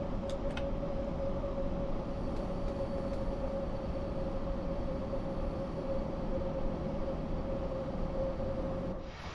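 Steady rumbling drone of an approaching train in Train Sim World 6, with a continuous tonal whine held throughout and a few faint clicks early on, no talk.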